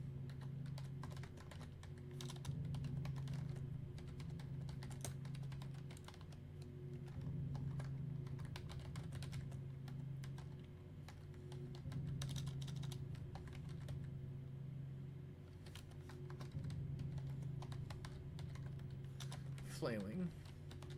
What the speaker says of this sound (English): Let me type this up.